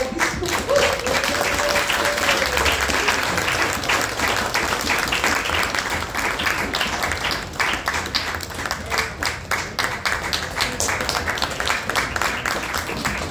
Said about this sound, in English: I need a more raucous applause.